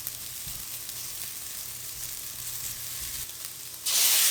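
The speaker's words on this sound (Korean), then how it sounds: "이제 식용유 3숟가락을 넣고 골고루 볶아줍니다" Dried pollock strips stir-fry in a few spoonfuls of cooking oil, giving a steady close sizzle with soft stirring scrapes. The hiss swells sharply louder near the end.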